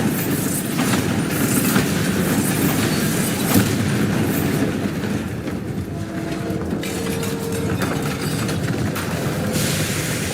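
Bombarda blasting spell explosion in Hogwarts Legacy: a dense, continuous roaring rumble with crackling debris and a few heavier thumps, sustained and loud throughout without any voice.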